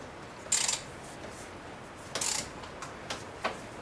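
A timing chain tensioner being worked on an engine during a cylinder head install, heard as a few close metallic clicks and ratcheting rasps with pauses between them, without voices.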